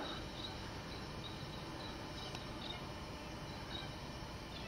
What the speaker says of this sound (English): Sound of the birds,